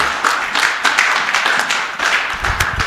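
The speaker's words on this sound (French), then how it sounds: "Applaudissons pour la gloire du Seigneur." Lively clapping from a church congregation, uneven and rhythmic with pulsing bursts, fairly loud and close, with no speech over it.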